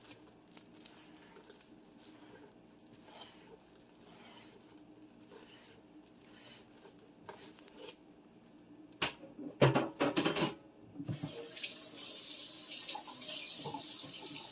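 Kitchen tap water running into a sink while dinner is prepared; quiet clatter and handling sounds come first, then the faucet turns on and flows steadily and loudly for the last few seconds.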